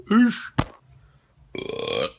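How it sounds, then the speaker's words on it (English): A loud, close burp after eating pizza, one long croaky belch following a short voiced sound and a sharp click. "Sorry, pizza burp."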